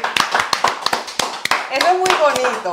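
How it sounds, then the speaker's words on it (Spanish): A few people clap in uneven, separate bursts for a production crew, close by, while someone talks over the later part. "un aplauso para la producción"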